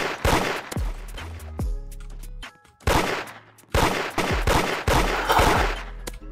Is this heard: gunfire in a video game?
yes